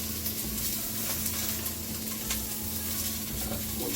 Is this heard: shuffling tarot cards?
no